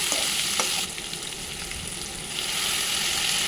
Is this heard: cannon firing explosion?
no